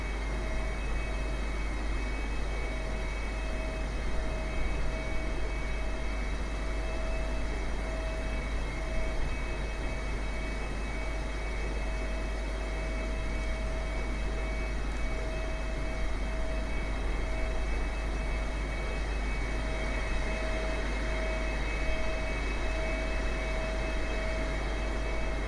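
Boeing 747-8 engines in KLM 2002 colours in Microsoft Flight Simulator drone as a steady, continuous jet roar with a low rumble and a thin sustained whine. It stays even and unbroken throughout, with no talk.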